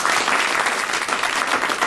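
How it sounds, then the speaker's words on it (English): Dense, steady applause from a live audience at a 2006 Ray Davies songwriting event, a continuous wash of many hands clapping close and loud for the whole stretch. "Give yourselves a round of applause very quickly"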